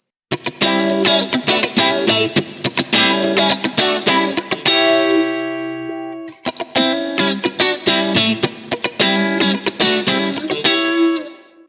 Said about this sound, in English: If I go to the band pass filter now, what you're going to hear is more of a centralized peak.